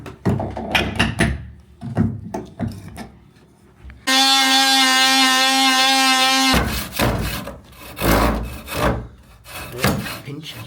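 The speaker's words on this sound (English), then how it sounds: "it's time to let Rich loose with his hammer and saw" Rhythmic back-and-forth rasping of a hand saw through wood, close and fairly loud, interrupted midway by a sustained horn-like tonal blare before the sawing resumes.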